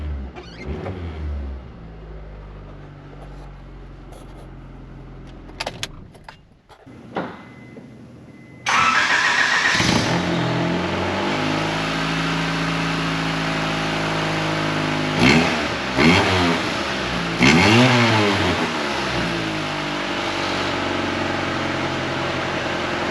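A cold 1991 Honda Civic LX sedan engine starts and idles, a steady mid-pitched running note close by with brief louder rises like a fast idle settling down, and no voices.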